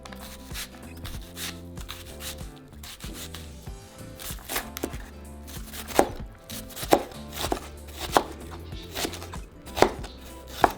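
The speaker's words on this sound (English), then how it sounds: "once we have our onion finely chopped" A knife chops onion finely on a cutting board, with steady close taps that get sharper and more distinct toward the end, alone with no talk.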